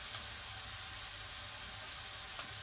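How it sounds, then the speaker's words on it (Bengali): Onions frying in a pan in a home kitchen, a quiet steady sizzle with a soft crackle running throughout, with a faint clink near the end. "পেঁয়াজটাকে একটু ভালো করে ভেজে নিতে হবে, একদম লাল নরম হবে"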